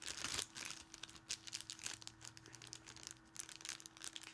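A small plastic bag holding a mystery figure crinkles and rustles in a run of crisp, close handling noises as it is unwrapped during a subscription box unboxing, with no talking.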